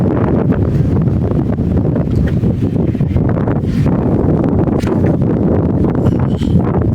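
Strong wind buffets the microphone on a seaside dike by a fish pond, a loud continuous low rumble with gusty surges and no voices.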